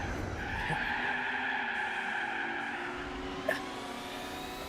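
Tires squeal and skid steadily as a race car spins out after being wedged against an opponent in Gran Turismo 4, with engine drone underneath and a brief knock of contact near the end.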